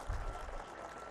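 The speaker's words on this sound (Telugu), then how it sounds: "మరి బాగుంటే గట్టిగా గవర్నర్ గారికి స్వాగతం పలకడానికి చప్పట్లు కొట్టండి" A large crowd applauds at a women's self-help bazaar event to welcome the state governor, a dense, close burst of clapping that starts strong and then fades slightly.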